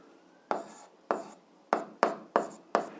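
Six crisp strokes of writing out an algebra equation, each a quick scratchy tap that fades briefly, coming in an uneven rhythm and close by, with no voices.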